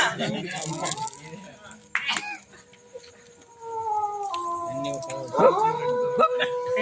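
A dog howls during a Tamil stage comedy sketch: long, wavering, drawn-out tones rise and fall over several seconds, loud and close, with short bursts of voice around them.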